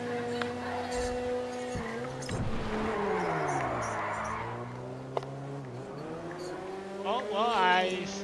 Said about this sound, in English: Fucking drift again.